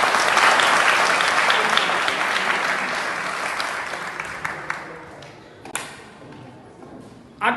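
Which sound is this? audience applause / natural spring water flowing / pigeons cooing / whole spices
audience applause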